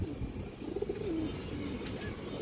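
A Bagha breed pigeon cooing while being handled, a faint low warbling coo drifting over soft background noise.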